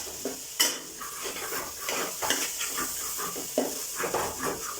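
A lid comes off a pot of chicken curry masala with a metallic clank, followed by repeated scraping and stirring strokes over a soft sizzle and hiss.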